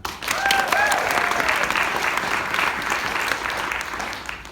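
A retreat audience breaks into enthusiastic applause, dense clapping close by that swells quickly and stays strong before easing slightly, with a brief cheer or voice rising over it near the start.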